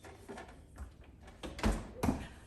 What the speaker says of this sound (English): I'm gonna close this refrigerator.